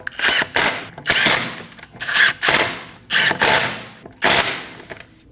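Pneumatic impact gun snugging lug studs onto a Volkswagen Passat rear wheel hub, five sharp rattling bursts about a second apart, loud and close with brief pauses between.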